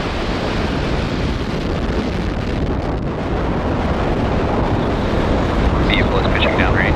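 A SpaceX Falcon Heavy rocket lifts off carrying ViaSat-3, a loud, continuous broadband roar with wind-buffeted rumble that holds steady and swells slightly toward the end.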